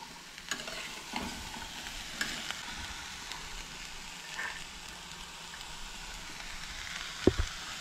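Onion and beans stirred in a pan, a soft continuous sizzle with faint scraping of the spoon and occasional light clinks, quiet and close with no talk.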